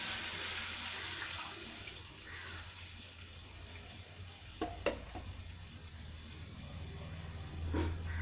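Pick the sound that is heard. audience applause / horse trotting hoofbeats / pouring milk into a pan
pouring milk into a pan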